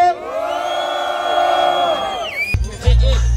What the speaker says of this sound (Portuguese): porque é terceiro round, faz barulho!